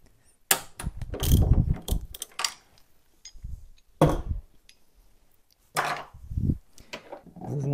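A wrench works a 12 mm nut off the fuel tank mount of a Yamaha FJR 1300, with short bursts of metallic ratcheting and clicking separated by quiet pauses, close up.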